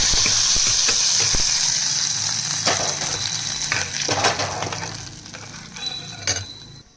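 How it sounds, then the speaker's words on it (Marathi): Curry leaves crackle and sizzle in hot oil with mustard seeds, a tempering for Udupi-style peanut and coconut chutney; steady close frying hiss with sharp pops and occasional stirring clinks, fading toward the end. "मोहरी चांगली तडतडल्यानंतर थोडीशी काळी झाल्यानंतर त्याच्यामध्ये टाकूत आपण कढीपत्ता"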